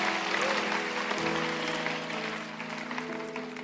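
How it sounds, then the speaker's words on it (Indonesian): Congregation applause at a youth church service, a broad wash of clapping with sustained organ or keyboard tones underneath, steady and fairly loud before easing off. "Yang ready berikan tepuk tangan buat Tuhan."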